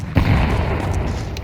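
A grenade bursts in Counter-Strike 2 with a sharp close boom, followed by a sustained low rumbling roar that stays loud through the rest of the moment.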